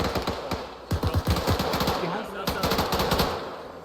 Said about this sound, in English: He's shooting through the camo net.